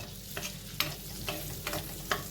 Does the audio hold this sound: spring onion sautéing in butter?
yes